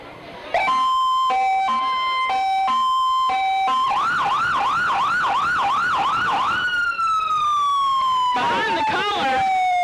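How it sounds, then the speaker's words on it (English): Police cruiser sirens blare loud and close at a Fourth of July parade, cycling through steady tones, rapid yelps and a long falling wail that overlap throughout. "sirens trying to drown us out here"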